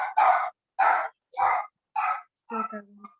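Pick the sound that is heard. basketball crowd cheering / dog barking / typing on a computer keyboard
dog barking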